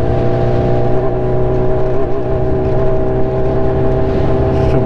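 A Honda CB1000R motorcycle engine runs with a steady, loud, droning hum that holds at a constant pitch with no clear rises in revs.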